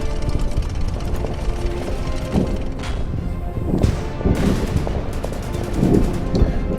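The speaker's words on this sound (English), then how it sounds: "And then the F1 can take a shot at the AT gun." Gunfire at an AT gun in the strategy game Order of Battle: a series of dull booming shots and rumbling impacts over a windy, noisy background, irregularly spaced.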